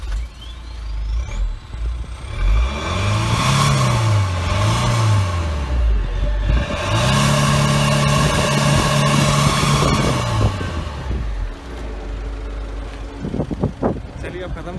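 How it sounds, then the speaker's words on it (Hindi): A 2017 Honda WR-V engine runs and revs up and down in two loud, sustained surges, then settles back toward idle. "ये अब इंजन साउंड सुनते हैं होंडा WRV का"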